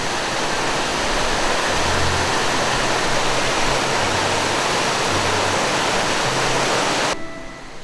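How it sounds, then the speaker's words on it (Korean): Loud running water rushes steadily and close outdoors beside a bonsai garden, a dense continuous roar that cuts off abruptly near the end, with no talking. "여기 물소리 때문에 너무 시끄러워서 안 될 것 같아요"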